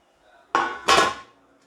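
Baked apple pecan cake pans flipped out onto a wire rack: two quick metallic thunks in close succession, ringing briefly and fading, close and fairly loud with no talk.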